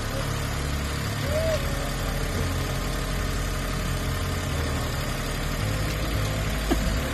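A turbocharged Suzuki DR17V 4x4 engine idles steadily, a low, even mechanical hum with no knocking, running close and continuous.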